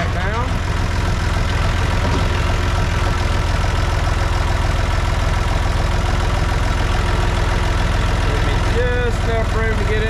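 Tractor engine with a hay spear on the front-end loader, idling steadily and loud at close range throughout while the tractor backs up in a barn, with a faint clatter near the end.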